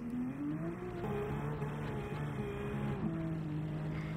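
Rear-engined Porsche 911 GT3 RS in a racing video game, its engine droning steadily with shifting pitch as it accelerates and slides, loud and continuous with no talk over it.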